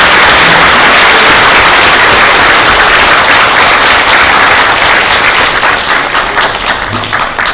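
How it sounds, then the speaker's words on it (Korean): A loud, sustained round of applause fills the hall after a lecture at a Buddhist temple workshop on virtual and augmented reality, many hands clapping densely and evenly before easing slightly at the close. "우리 박수로 감사합니다"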